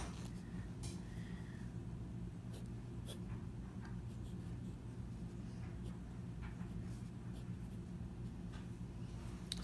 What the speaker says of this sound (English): let's get to the writing sample.